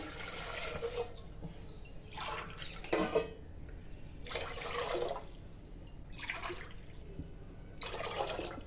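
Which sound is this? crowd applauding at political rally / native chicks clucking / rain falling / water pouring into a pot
water pouring into a pot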